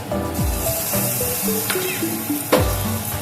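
Prawns drop into a sizzling spice-paste curry of yam and potato, giving a bright hissing burst with a sharper spray at the end, under soft background music and no speech.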